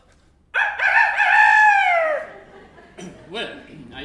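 A voice imitates a rooster's cock-a-doodle-doo, one long rising and falling crow, followed by softer clucking noises, near and clear.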